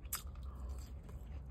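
Chick-fil-A waffle fries eaten close to the mic, a crisp bite at the start followed by soft, muffled chewing, faint and without talk.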